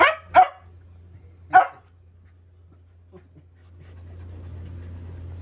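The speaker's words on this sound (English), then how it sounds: "That's their doggy." A dog gives three sharp barks close by, then goes quiet except for soft panting over a low steady hum.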